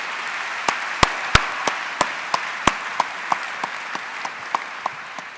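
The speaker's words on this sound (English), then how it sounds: "Ladies and gentlemen, please, can we have a round of applause for the 2024 journalism inductee for the MDC Hall of Fame." A crowd applauds the 2024 journalism inductee at the Miami-Dade College Hall of Fame, a dense wash of clapping punctuated by a dozen sharp, evenly spaced claps standing out above it, steady and close, with no talking.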